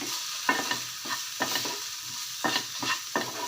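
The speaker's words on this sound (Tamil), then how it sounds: "இது நல்லா வதக்கி விட்டு சிம்மில் வச்சிட்டிங்க அப்படின்னா அப்போ போய் கிளறி கிளறி விட்டு" Okra being stirred as it sautés in a pan, quick spatula strokes in uneven bursts over a steady sizzle, close by with no voices.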